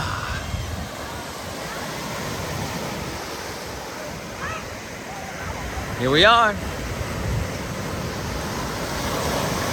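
Atlantic Ocean surf breaking on the Jersey Shore beach at Asbury Park on a July evening, a steady roar of waves with wind buffeting the microphone, under a man's brief speech and distant voices.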